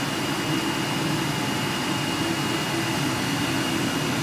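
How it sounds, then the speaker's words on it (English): A regular oil furnace converted to a waste motor oil burner runs with a constant, loud, steady roar and blower rush, unchanging throughout and with no voices. "this is my waste oil burner. It's just a regular oil furnace that has a conversion done to it"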